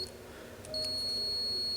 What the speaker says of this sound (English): so that's the invalid input beep there